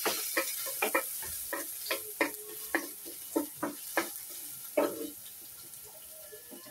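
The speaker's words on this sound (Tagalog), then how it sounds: "Una, gisin natin ng bawang." Garlic being sautéed in a pan for an ampalaya (bitter melon) and egg dish, with a soft sizzle under repeated clinks and taps of a utensil stirring against the pan.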